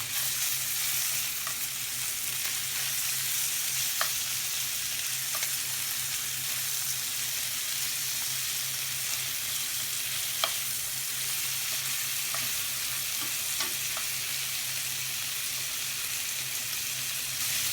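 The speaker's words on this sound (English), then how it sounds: "Basically what we're trying to do is brown all the sides of our chicken" Chicken satay pieces browning in a pan, a continuous, even sizzle over a low steady hum, broken by a few faint clicks and taps as the meat is turned.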